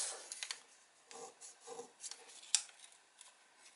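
Paper being folded and creased for an origami blowing top gives soft, close rustles and crisp rubbing scrapes in short irregular bursts, with one sharp little snap near the end.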